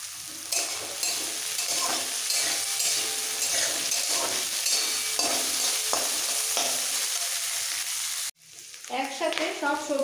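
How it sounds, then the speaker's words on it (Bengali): Cabbage and boiled corn are stir-fried with other vegetables in a wok, giving a steady loud sizzle with scraping stirring strokes throughout. The sizzle cuts off near the end and a brief voice follows. "বাঁধাকপি দিয়ে একটু নাড়াচাড়া করে সাথে সাথে দিয়ে দিচ্ছি কর্ন সেদ্ধটা"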